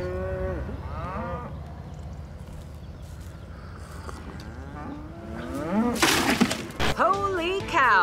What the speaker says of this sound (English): Look at the size of this cow that has everyone talking.